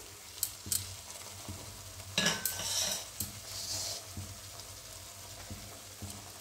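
A spoon scrapes and clinks in a pan as garam masala is stirred into a Bengali jackfruit curry with a splash of spice-rinsing water, with a low sizzle and a few sharp metallic taps close by.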